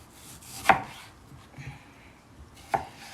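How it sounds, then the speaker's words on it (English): A knife cuts through mango on a cutting board, giving two sharp chops about two seconds apart with quiet handling noise between them and no talk. "I'm gonna cut up the other piece of this mango."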